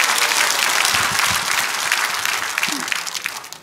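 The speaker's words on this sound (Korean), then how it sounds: "우리 스스로 박수 한번 보냅시다." Crowd applause at an outdoor political rally in Gwanghwamun, Seoul, a dense, steady clapping that fills the clip and slowly tapers toward the end.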